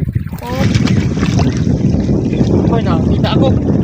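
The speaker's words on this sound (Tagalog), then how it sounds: "Lakas din ng hangin." Strong wind roars across a boat out at sea, a loud, steady broadband rush buffeting the microphone while people talk over it.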